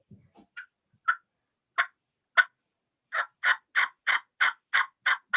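A hunter imitates turkey sounds with a mouth call, starting with a few scattered yelps and then breaking into a fast, even run of raspy notes that is loud and close, with no talk over it.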